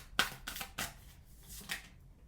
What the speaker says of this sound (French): Je vais procéder au tirage et on l'analyse ensuite.